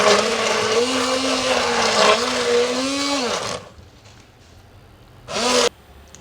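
A countertop electric blender purees apples into a smooth paste for jam, motor whirring loudly in pulsed bursts with a steady pitch that dips and recovers, stops for a quiet pause, then starts again with one short burst.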